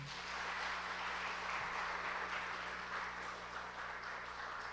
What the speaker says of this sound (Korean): 그럼 박수해 주시길 바랍니다.